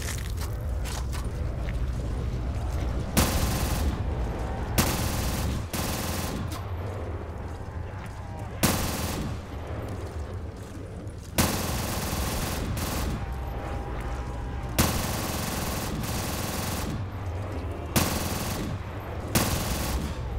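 Rapid automatic gunfire in a custom zombies map of a video game, loud sustained bursts broken by short pauses and recurring over about twenty seconds, with mechanical clatter between volleys and no talk.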